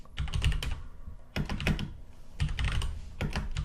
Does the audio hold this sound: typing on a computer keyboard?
yes